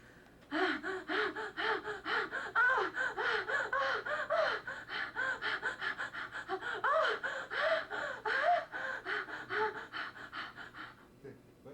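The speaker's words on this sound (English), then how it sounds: "this is rhythmic panting of the Queen Nose" A voice performer pants rhythmically for an alien creature effect in a film, with loud, close, fast voiced gasps in bursts and brief pauses between runs.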